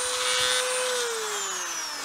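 A high-speed rotary tool spinning at 30,000 RPM cuts into the wooden stock of an M1A or Garand rifle, a steady close whine that slowly drops in pitch as it bites in.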